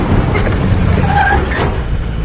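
Vehicles roll in with skidding, scraping tires amid a tense armed standoff in the film 13 Hours, a loud, dense rush of engine and tire noise that peaks midway and then eases slightly.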